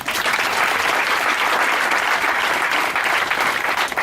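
Dense, sustained applause from a church congregation fills the whole stretch, loud and even from start to finish with no speech.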